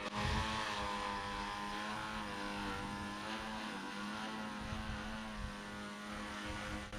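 Remote-controlled VTOL model aircraft on a test flight gives a steady, loud whirring drone with a sustained motor hum that stays constant from start to finish, with no voices.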